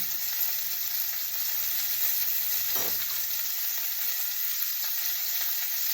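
Pork chops fry in a pan with a continuous close sizzle and faint bubbling, a soft low bump partway through, and no one talking.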